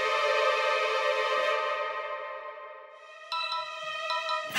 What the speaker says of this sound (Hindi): राशि का फोन।